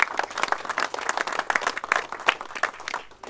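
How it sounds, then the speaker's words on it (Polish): A gathering applauds the county council at a bridge construction contract signing, steady dense clapping from a modest crowd, fairly close and unbroken. "Wielkie brawa dla Rady Powiatu całej"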